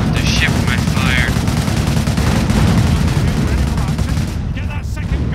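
Artillery and gunfire in the Company of Heroes: Opposing Fronts British campaign, dense rumbling barrage of blasts and booms, with brief whistling shells overhead.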